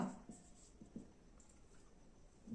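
A pen writing on paper during a maths lesson, faint and close, with a few soft strokes and scratches over a quiet background hiss.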